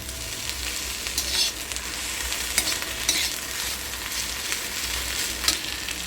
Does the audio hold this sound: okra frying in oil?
yes